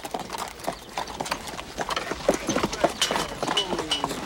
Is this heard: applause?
no